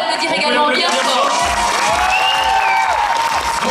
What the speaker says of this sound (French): je vous demande de l'applaudir également bien fort